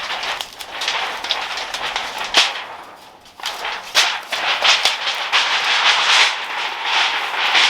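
Loud, continuous metallic rattling and scraping as a sheet of metal is rolled up, with sharp clanks and crackles, close by and without speech.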